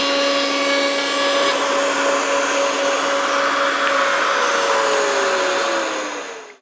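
Wood router with its cutter set just over 6 mm deep cuts a groove in a wooden drawer side for a hall table, giving a steady, loud, high motor whine with a constant drone for several seconds before winding down at the end.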